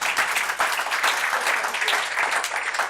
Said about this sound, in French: vous l'avez applaudi chaleureusement